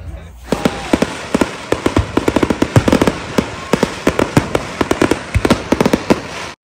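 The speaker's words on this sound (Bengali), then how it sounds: "এখন ফায়ার ওয়ার্কস শুরু হয়ে গেল।" Fireworks burst in rapid, irregular volleys of sharp cracks and bangs at an Independence Day show in the USA, loud and close, with crowd voices faintly underneath.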